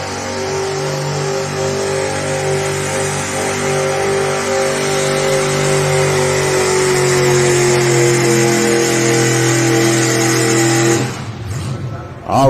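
A Dodge Prostock four-wheel-drive pulling truck roars under a sustained loud engine rev with rising harmonic whine at a truck and tractor pull, holding strong for about eleven seconds before cutting off abruptly.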